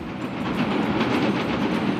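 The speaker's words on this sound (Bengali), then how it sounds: "নদীর উপরে লোহার ব্রিজ ব্রিজের উপরে ট্রেন" A train crosses an iron bridge over a river, its wheels beating a steady, rhythmic clickety-clack over a continuous rumbling roar, close and loud.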